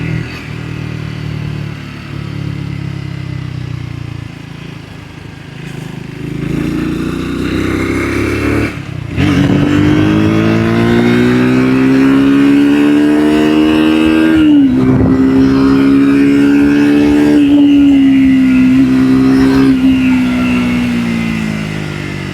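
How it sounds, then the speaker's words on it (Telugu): A 2026 Triumph Speed 350 motorcycle is ridden, its exhaust note building from a lower rumble into a loud, steady drone with brief dips where the throttle eases, then holding strong. "ఎగ్జాస్ట్ నోట్ సూపర్, చాలా బాగుంది ఎగ్జాస్ట్ నోట్"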